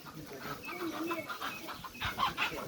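Chickens cluck and squawk in a domestic home setting, moderately loud and irregular, mixed with household voices talking over the birds.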